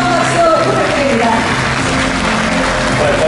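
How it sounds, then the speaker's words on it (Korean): Applause from a conference audience at the 2019-20 Rotary International District 3721 district conference, a dense, steady wash of clapping that carries through the full stretch, mixed with voices and a faint tonal background. "큰 박수 부탁드립니다"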